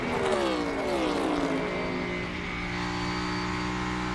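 A NASCAR Cup Series race car engine, driven by Shane Van Gisbergen, revs hard with rising and falling harmonic pitch, loud and close, then settles into a steady high drone.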